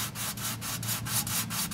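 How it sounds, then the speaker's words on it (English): Hand sanding of a rust repair area on a car body, a steady rhythmic scraping in quick back-and-forth strokes about four per second, close and continuous with no talk. "I'm just gonna finish it with hand sanding this area over here"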